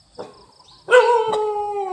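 A dog kept outdoors as a guard, barking at anyone coming or going, lets out a loud, drawn-out tonal bark that rises into a sustained howl-like cry, preceded by a quieter rustle.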